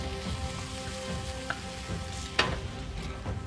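Garlic and ginger sauté in a quarter cup of hot oil for veg Manchurian gravy, a steady close sizzle with a couple of sharp clicks from stirring and no talk.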